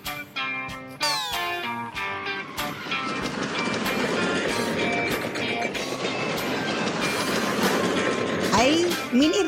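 A mini train ride at a busy amusement fair rumbles and clatters steadily, with bright chimes, music and crowd noise mixed in throughout.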